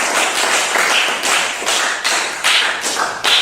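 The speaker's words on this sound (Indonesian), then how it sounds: "mari tepuk tangan buat kelompok 3" Classroom of students clapping together in a steady rhythmic beat for a group, loud and close, with regular pulses of clapping.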